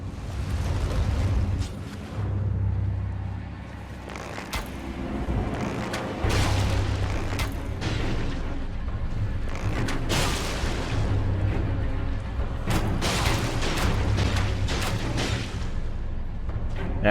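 An arrow barrage in Elden Ring lands as a run of deep booms and sharp impact cracks, repeating irregularly at close range against a low rumbling backdrop, with no talk.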